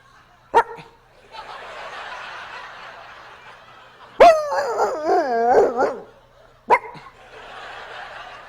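A comedian on stage imitates dogs barking at night, giving sharp yelps and a wavering howl-like run of barks, while the audience laughs in bursts between them.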